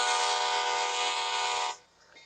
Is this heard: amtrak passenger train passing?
yes